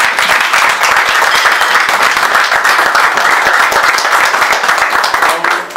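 Loud, continuous clapping from an audience at a panel discussion, many hands beating in dense overlapping rhythm with faint voices underneath, easing slightly at the close.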